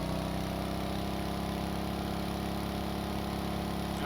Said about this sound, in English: let's go full throttle